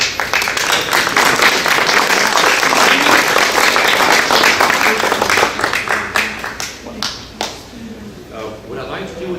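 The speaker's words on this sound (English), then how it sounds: "let's have a nice, warm, special round of applause for the star of the show" An art-show audience gives a warm round of applause for the master artist being honoured at a museum event. The clapping starts loud and dense, then thins to scattered claps near the end.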